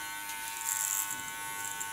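An electric hair clipper with its guard removed and the blade set at the back buzzes quietly and steadily while shaving a long-haired woman's nape, close and continuous with a slight swell in the middle.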